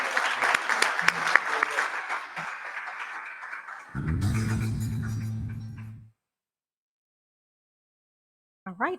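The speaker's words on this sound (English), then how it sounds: "let's give her a big round of applause for all that she does for our students" A crowd at a school excellence awards ceremony applauds an award recipient, brief clapping and cheering that gives way to a sustained musical tone before falling silent.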